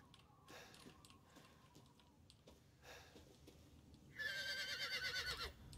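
Horse in the video game Resident Evil Village gives a loud, quavering whinny near the end, following faint hoof-like ticks and soft game ambience.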